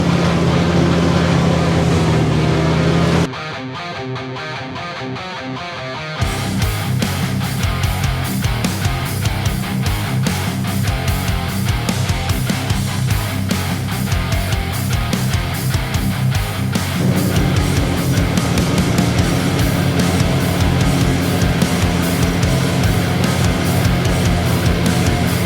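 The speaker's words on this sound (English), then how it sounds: "It's on our little new Holland 45D. The little major flail topper." A small New Holland 45D tractor running a Major flail topper across a grass field, its steady loud engine and mower drone continuing throughout with a short quieter dip near the start.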